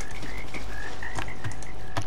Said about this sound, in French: C'est des grenouilles.